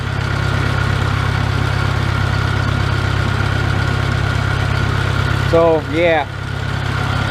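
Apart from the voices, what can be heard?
Farmall Cub tractor engine idling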